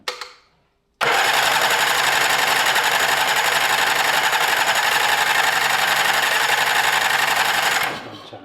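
A Yamaha 9.9 outboard motor with hard-starting and cutting-out trouble cranks steadily for about seven seconds, a loud, close, rapid chugging churn that never catches, then winds down and stops.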